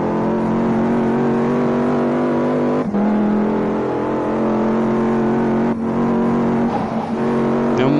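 Video game car speeding away from police, a loud steady engine drone with a sustained high whine and brief dips as gears shift, close and continuous, no talking.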